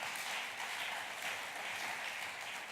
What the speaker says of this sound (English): I reckon we should give them a clap for putting on such an incredible big sound